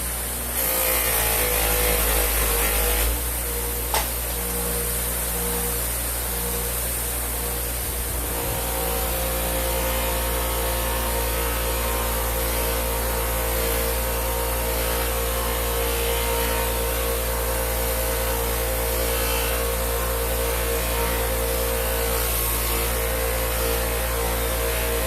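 A polishing buffing wheel running steadily, freshly dressed with polish for aluminum; a loud, continuous motor hum and whir with a brief louder contact around the start, then an even drone throughout.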